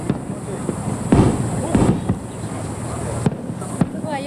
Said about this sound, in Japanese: 福岡まで来てね、花火とか見れると思わなかった。